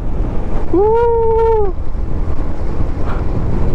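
Wind roars steadily over ocean surf along the coast at Dipaculao and Casiguran in Aurora, loud and buffeting the microphone, while a person lets out a brief whoop early on.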